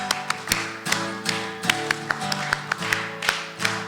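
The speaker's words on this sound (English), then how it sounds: "Do the special clapping." A rhythmic pattern of sharp claps and taps at a tribute service, evenly spaced over sustained music, crisp and near.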